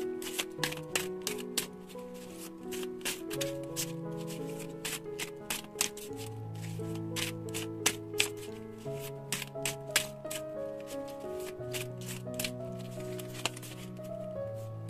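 Tarot cards are shuffled and drawn by hand, a run of crisp, irregular snaps and flicks set over soft, sustained background music.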